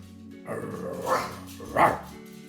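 A dog gives two short, gruff bursts of growling bark over a low continuous rumble, close by and fairly loud.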